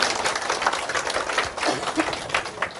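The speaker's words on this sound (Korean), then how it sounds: "일단 박수 한번 부탁드릴게요" A seminar audience of students' parents claps in a lecture hall, dense continuous applause that stays steady and fairly close throughout.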